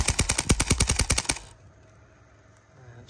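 A paintball marker firing airsoft BBs in a rapid burst of about a dozen sharp, evenly spaced shots lasting roughly a second and a half, then falling to quiet background hiss.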